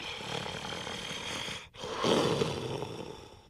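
K. Rool from Super Smash Bros. Ultimate snores in his sleeping voice clip, a rough, gravelly inhale, a brief pause, then a louder, gross, throaty snore.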